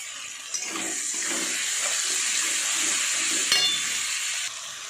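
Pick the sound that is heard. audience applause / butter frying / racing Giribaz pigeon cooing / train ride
butter frying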